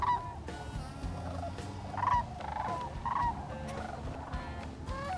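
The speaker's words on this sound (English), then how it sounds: "I'm hearing birds all around us." Sandhill cranes give repeated rattling, trumpeting calls from a distance, a few seconds apart, over a steady rumble of background noise, during a crane hunt.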